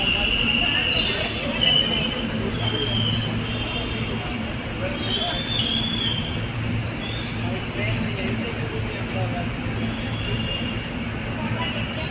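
A metro train in Ahmedabad rumbles steadily along the rails with high wheel squeals, heard from inside the carriage, with faint voices murmuring throughout.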